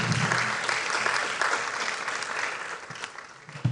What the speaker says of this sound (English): help me appreciate yourselves, all the participants and the general public, by a huge round of applause